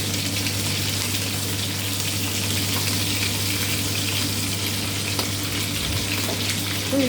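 Food fries in hot oil in a pan with a loud, continuous sizzle and constant crackling spatter, steady and close throughout, over a low background hum.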